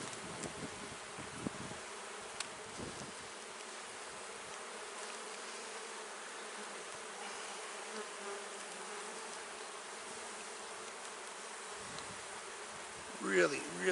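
Honeybees buzz around an opened hive during frame work, forming a close, continuous drone that holds steady for the whole stretch, with a brief voice and a few small handling sounds at the end.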